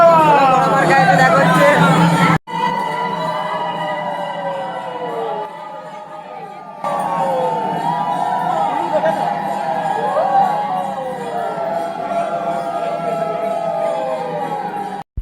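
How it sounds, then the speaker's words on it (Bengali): A devotee crowd in a Kali temple makes a constant hubbub of voices that fills the whole clip, with chatter and a high wailing tone layered over the babble. "ওখানে খালি ভিড়টা দেখো একবার"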